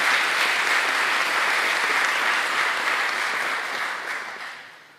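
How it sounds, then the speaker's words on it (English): An audience at a scholarship award event gives a sustained round of applause, a thick even roar of clapping that tapers off toward the end. "So please give her another round of applause."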